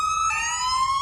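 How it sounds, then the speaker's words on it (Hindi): Anti-theft security app on a phone sounding its siren alarm after the SIM card is pulled out, a loud electronic wail sweeping upward with bright harmonics, steady and close, with no talking over it. "ये देखिए कैसे सायरन बजेगा"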